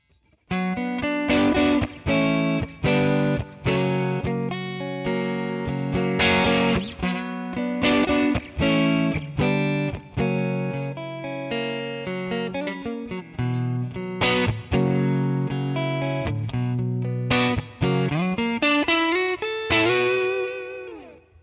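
Electric guitar played through a Two Rock traditional clean amp model in Tonex rings out in bright, clean chords and single notes, steady and close for over twenty seconds with rhythmic strums and sustained decays.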